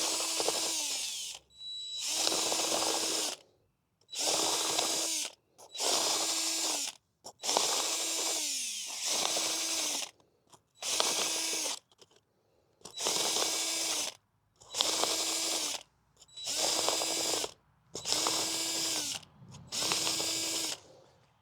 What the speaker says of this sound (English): Now I am using a spade bit on here